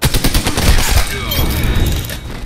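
Rapid bursts of close gunfire in Apex Legends, loud repeated shots in a fast rhythm that thin out toward the end, with game voice lines over them.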